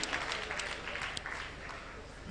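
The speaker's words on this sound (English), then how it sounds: "A round of applause for him." A short burst of applause from an audience, steady clapping that fades slightly toward the end.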